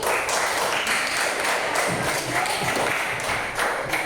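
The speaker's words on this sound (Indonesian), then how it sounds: "cukup beri tepuk tangan untuk kelompok ini" Classroom applause for a group of students who have just presented, a dense steady wash of clapping filling the room at even loudness throughout.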